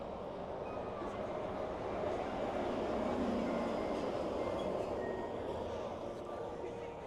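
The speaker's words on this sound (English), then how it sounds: "Perfect timing with the monorail." Disneyland monorail passing during a 70th-anniversary flag retreat and parade: a steady broadband rumble and rolling whoosh holds at even loudness throughout, mixed with crowd murmur and nearby voices.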